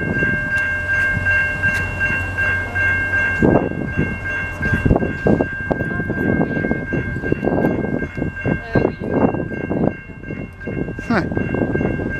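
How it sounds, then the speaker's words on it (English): A VIA Rail passenger train rolls past in Montreal, Quebec, its horn sounding in long steady blasts over a rumbling passage of wheels and cars, with rhythmic clatter on the rails. Close and loud throughout. "Looks exactly like the train I just filmed, except it's got a flood car at the end of it there."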